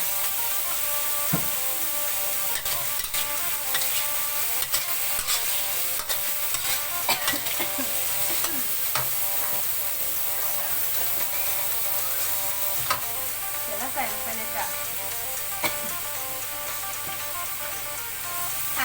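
Pork and garlic chive flowers stir-fry in a pan with a steady, close sizzle, broken by frequent scrapes and clacks of the spatula against the pan. No one speaks.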